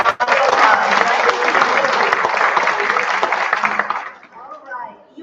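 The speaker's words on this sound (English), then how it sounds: "Let's give him a round of applause" Audience applause for a physician honored for 50 years of practice at a community women's health day event, a dense sustained burst of clapping that thins out and fades over the last second.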